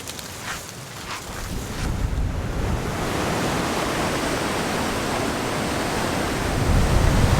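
Ocean waves wash steadily over jagged rocks on a Hawaiian black sand beach, a broad continuous roar of surf and wind that swells louder toward the end, with no voices.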